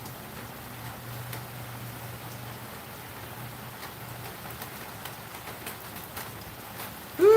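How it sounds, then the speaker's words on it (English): Steady rain patters softly and evenly throughout, a faint continuous hiss with scattered drops, ending with a brief louder sound at the close. "It's raining here."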